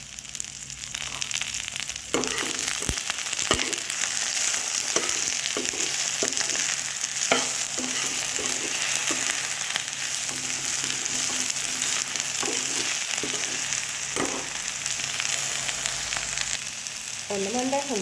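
Okra sizzles steadily in oil in a frying pan while a utensil stirs it, with repeated scraping clicks and knocks against the pan over a continuous frying hiss.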